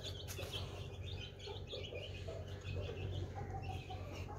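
A hen and her chicks gather at freshly poured water, soft clucks and chirps repeating faintly over a low background hum.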